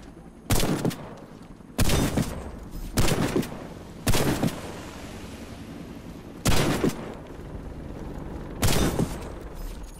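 Shotgun blasts from a medic's weapon in the shooter game Warface, fired on a street: six loud, sharp booms at uneven intervals, each with a short decaying tail over a low background rumble.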